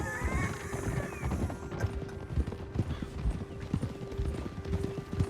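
Horse hooves clop in Red Dead Redemption 2, a steady run of close hoof beats over a low background hum, with a faint whinny near the start and no speech.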